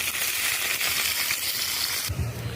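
Steady crackling sizzle of onion, green chili and chopped garlic frying in hot oil, close and continuous, with a brief stirring scrape near the end.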